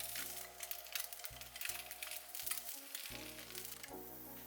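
An egg sizzles steadily in a pan over medium heat, a soft, continuous crackling frying sound with a faint tonal hum underneath.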